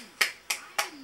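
Three small hand claps from a baby, evenly spaced and close by, each a quick soft smack.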